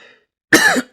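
A person with a terrible cough, on antibiotics, lets out one harsh, close cough after a faint breathy sound, and a second cough starts right at the end.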